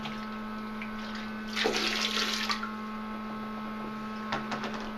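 Water gurgles and rushes briefly in a burst as it drains from a Thetford 550E portable toilet's holding tank, then trickles off, with a steady electrical hum underneath and a few faint splashes near the end.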